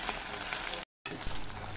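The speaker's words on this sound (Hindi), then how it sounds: "ये गोश्त का कलर चेंज होने तक मैं इसे इसी तरह से भूनूंगी।" Mutton pieces frying with onions in a pan give a steady, close sizzle, broken once by a brief silent gap.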